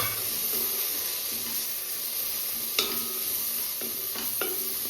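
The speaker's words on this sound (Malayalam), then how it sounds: "കുരുമുളക് പൊടി ഗരം പൊടി ഞാൻ അവസാനമായിട്ട് ഇട്ട് കൊടുക്കുന്നത് ഇതൊന്ന് വഴറ്റി വെക്കാം" Black pepper and garam masala powder sautéing in a pan for egg curry, a steady soft sizzle with a spoon scraping and stirring through it, a few sharper clicks of the utensil against the pan.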